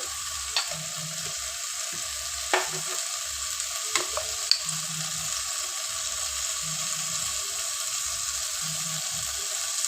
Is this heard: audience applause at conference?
no